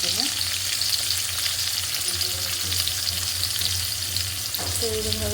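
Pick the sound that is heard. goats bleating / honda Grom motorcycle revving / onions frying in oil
onions frying in oil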